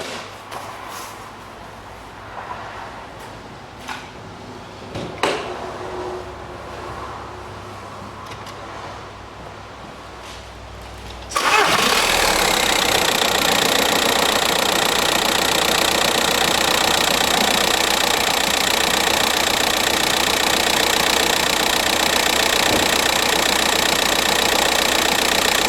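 A 2006 Volkswagen Passat TDI diesel engine fires up after a quiet stretch of background noise and settles into a loud, steady idle that runs on unbroken and close by.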